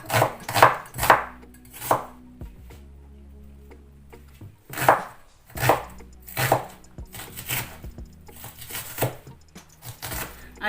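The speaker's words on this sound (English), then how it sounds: "cut small pieces of the shallot of the red onion." A knife chops red onion shallots into small pieces on a board, giving close, sharp knocks in irregular clusters with short pauses between them and faint background hum.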